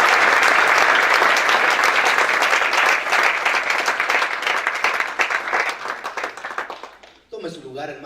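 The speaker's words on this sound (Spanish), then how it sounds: "¿Puede darle a un palmas, iglesia, a nuestro Dios?" A church congregation breaks into loud, sustained applause and clapping during a Spanish-language service, the dense clapping gradually thinning and fading before a voice begins speaking near the end.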